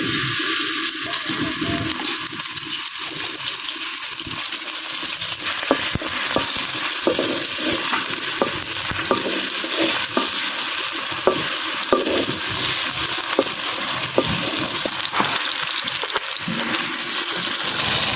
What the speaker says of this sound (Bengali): তেলটা গরম হয়ে আসলে দিয়ে দিব বাটা মশলাগুলা প্রথমে দিয়ে দিতেছি পেঁয়াজ কুচি